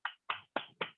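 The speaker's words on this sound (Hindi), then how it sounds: "एक बार जोरदार तालियां बजा सकते हैं हम साहिल जी के लिए" Applause at an Amway business seminar comes through as four sharp, evenly spaced hand claps, close and fairly loud, in quick succession with short silences between.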